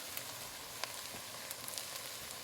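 Spices including New Mexico red chili, cayenne, brown sugar and cinnamon are stirred into a pot of beef brisket chili, giving a steady close sizzle with faint scrapes and soft taps and no talking.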